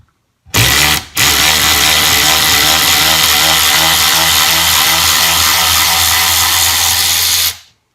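A 16V cordless long-neck ratchet whines loudly and continuously as it backs out a bolt that had been torqued down hard, with a brief stop near the start before a sustained run of about six seconds.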